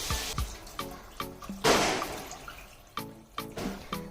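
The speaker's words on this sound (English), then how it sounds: "now we're going to pour in some water" Water splashes and gurgles into a cooking pot in short pours and drips, about 1.5 to 2 liters for yee mee gravy, with hollow ringing tones as the vessel fills.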